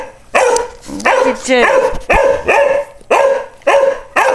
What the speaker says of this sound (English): What does the dog say?